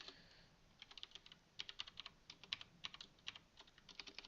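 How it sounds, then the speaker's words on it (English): Keystrokes on a computer keyboard while Java code is entered, an irregular run of crisp clicks in quick bursts, fairly faint and heard alone without talk. "Wow, typing is hard."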